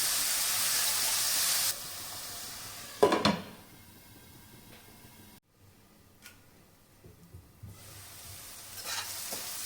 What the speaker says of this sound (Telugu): కట్ చేసిన ఆనియన్స్ కూడా ఇందులో వేసేసుకొని ఫ్రై చేసుకుందాం.